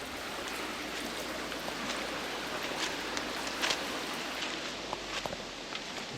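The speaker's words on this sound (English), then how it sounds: "I built a little bit of a waterfall up here." A constant gentle rush of water trickling down a small hand-built waterfall at an outback waterhole fills the scene, steady and soft, with a few faint taps and drips on top.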